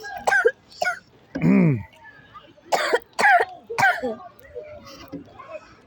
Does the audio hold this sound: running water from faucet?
no